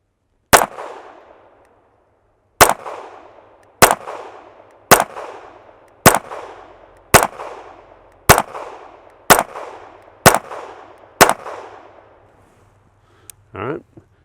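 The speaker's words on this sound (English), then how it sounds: "Here is 10 rounds unsuppressed. This is Federal standard velocity." Ten unsuppressed .22 rifle shots using Federal standard velocity ammunition crack out close and loud at uneven intervals of about a second, each with a short ringing decay, followed by a faint clunk at the end.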